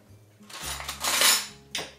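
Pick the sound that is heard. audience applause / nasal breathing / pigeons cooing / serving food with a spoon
serving food with a spoon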